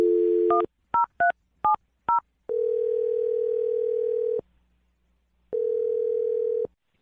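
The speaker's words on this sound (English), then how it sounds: "I'm going to dial the phone number right now." A short run of telephone keypad tones sounds in quick succession, followed by two long, steady ringback tones separated by silence.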